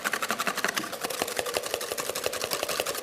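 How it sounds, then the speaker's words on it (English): A whisk beating egg yolks and sugar in a jug with a handle, clattering in a fast, steady stream of rapid clicks and taps, close and continuous with no talking. "you want to really whisk them until the sugar is completely dissolved in there"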